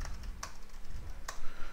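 Computer keyboard keys clatter in brief irregular taps with a few sharper clicks, close and moderately loud, while building a PowerPoint presentation, with no voices.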